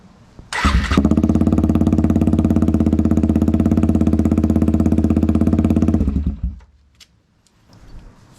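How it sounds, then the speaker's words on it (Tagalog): Suzuki Gixxer 250 SF motorcycle with the exhaust silencer removed, its engine loud and close for about six seconds in a steady, raspy, pulsing drone before cutting off abruptly into near silence. "So this is the sound without silencer."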